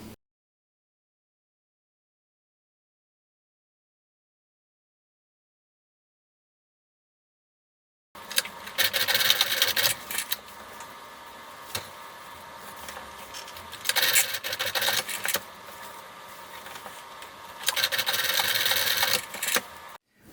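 A sewing machine runs in bursts while stitching a fabric hem, including a couple of back stitches to lock it, starting after a long silent stretch and whirring loud and close with short pauses between runs.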